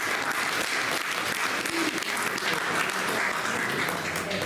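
Audience applause at an Italian-language evening gathering, a dense, steady wash of clapping that holds at an even level from start to finish.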